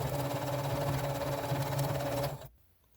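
A sewing machine stitches along the edge of a heat-set quilt block, its motor giving a steady, close whirring hum that cuts off abruptly near the end.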